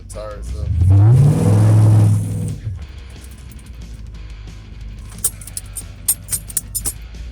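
LS-swapped Chevrolet Caprice on a test pull: a loud, rising engine roar rushes in and swells for about two seconds, then fades beneath road noise and scattered clicks and knocks, with a voice speaking.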